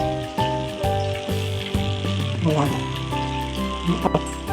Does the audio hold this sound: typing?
no